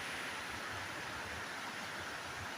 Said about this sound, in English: But that force from that waterfall, man, I don't think you'd be able to stand comfortably under that.